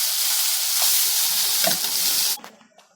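Chopped pirandai (adamant creeper) sautés in hot oil with mustard seeds, a loud, dense sizzle close by that cuts off sharply near the end, leaving faint crackles.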